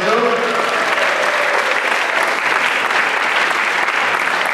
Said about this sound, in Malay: Berikan tepukan mereka penganjur.